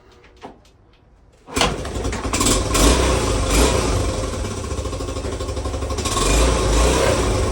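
After a quiet moment with a few faint clicks, a 1986 Honda CT110 motorcycle engine suddenly fires up with a single kick and settles into a loud, steady running rumble.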